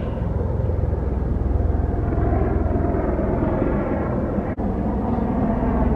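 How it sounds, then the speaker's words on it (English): A continuous low, throbbing rumble of a helicopter overhead, steady and fairly loud, with no talking. "There's one helicopter that's a lot closer than it seems."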